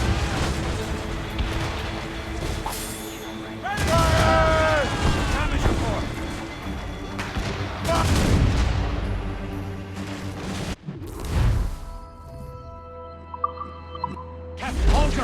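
Ship cannons boom in a naval battle in the video game Assassin's Creed Rogue, heavy blasts and crashes over churning water and game score, with voices talking in between.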